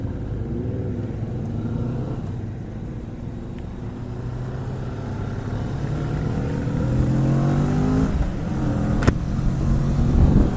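A 2018 Kawasaki Vulcan S cruiser motorcycle is ridden with a smooth, continuous engine drone. The drone grows slightly louder and fuller after the midpoint, with a brief sharp click near the end and no talking.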